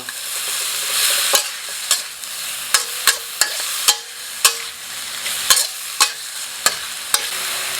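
Beef and straw mushrooms stir-frying in a hot pan for Thai basil beef, with a steady sizzle broken by a dozen sharp, regular clacks of a spatula scraping the pan, close and clear with no talking.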